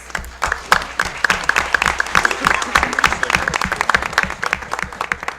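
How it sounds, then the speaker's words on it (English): Applause at a Board of Education meeting greets the Lacey Township Middle School Select Ensemble Band. A crowd claps loudly and steadily, with crisp nearby claps over the general patter, a few faint voices mixed in. "Round of applause"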